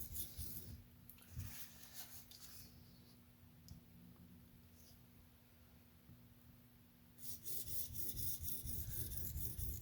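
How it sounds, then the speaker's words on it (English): Freehand sharpening of a TRM Atom knife with CPM 20CV steel on a stone: a steady, close rasping scrape that continues throughout, louder at the start and end, with no talking. "It's like it skates across the stone instead of digging into the stone."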